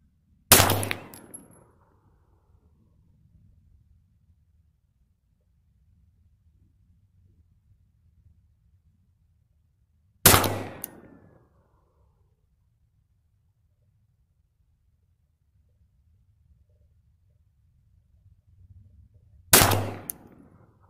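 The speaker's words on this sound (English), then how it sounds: "Now I will be shooting my Glock 35 with my reloads." Three single pistol shots from a Glock 35 firing reloaded 9mm ammunition at an outdoor range, each a sharp loud crack spaced about ten seconds apart with quiet in between.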